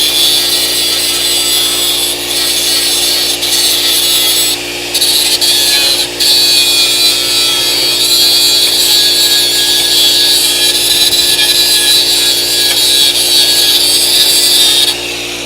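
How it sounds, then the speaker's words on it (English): Abrasive cutoff wheel run lightly back and forth over the metal of a car's inner rocker panel on a Dodge Coronet crew cab, a loud continuous high grinding whine with a few brief dips, steady throughout. "You just lightly run the cutoff wheel back and forth, you can get a clean surface."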